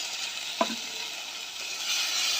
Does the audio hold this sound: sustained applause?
no